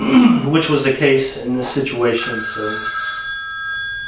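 A mobile phone ringtone sounds with steady repeating bright tones, starting partway through and continuing after someone talking up close stops.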